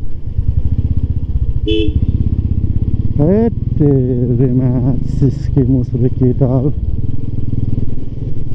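A scooter's engine hums and rumbles steadily while riding on a solo ride toward Latarambeshwor Mahadev, with a short horn-like toot and a voice talking over it throughout.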